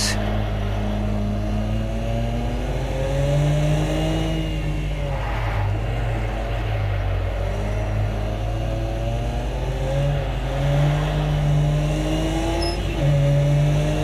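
Race car engine in Project Cars 2, lapping the Nordschleife at night in snow, a continuous loud drone with rising and falling revs as it shifts through the gears, steady throughout.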